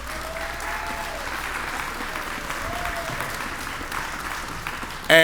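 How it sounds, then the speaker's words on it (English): Applause from a crowd at a ribbon-cutting ceremony for the new Grant Center Gymnasium, a steady wash of clapping held at an even level for several seconds, ending with a brief louder bump. "You can clap right there."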